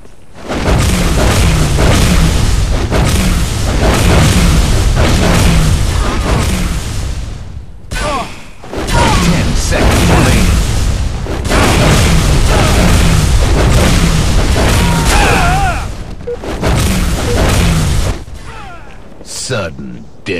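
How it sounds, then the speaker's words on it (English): A bomb detonating in an online shooter game, heavy deep booms and blasts filling long stretches, loud and close, with game announcer voices in between. "Bomb armed. Bomb detonated."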